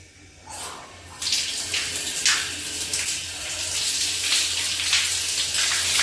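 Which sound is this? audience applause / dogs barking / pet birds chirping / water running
water running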